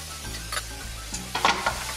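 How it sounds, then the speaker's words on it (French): Garlic being stirred into a simmering pot of chickpea and potato curry, a short stretch of steady sizzle and hiss with a few soft scraping strokes of the spoon close by. "on remue un peu comme ça, tout cuit uniformément"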